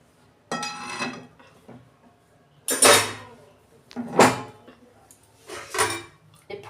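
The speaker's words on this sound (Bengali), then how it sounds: "ফুটো থালায় ঢেলে ফেলছি।" Clattering metal cookware as boiled taro greens are tipped into a colander in a home kitchen, four distinct bursts of clanks and scrapes separated by near silence, close and fairly loud.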